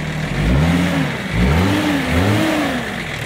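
A BMW TDS diesel tuned to 280 hp revs up in three swelling blips, each climbing then falling back, close and loud over a steady idle.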